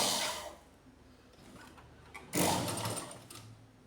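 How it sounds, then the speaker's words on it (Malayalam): Sewing machine stitching along a cord to form a drawstring channel on fabric, a steady motorised whir that quiets, then surges louder and closer in a second burst. "ഈ ടൊയിൻ്റെ സൈഡിൽ കൂടെ അടിച്ചു പോവാം"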